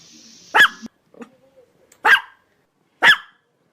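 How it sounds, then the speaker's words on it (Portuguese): A dog gives three short, sharp barks spaced about a second apart, loud and close against otherwise quiet surroundings. "O latido do cachorro tem um som"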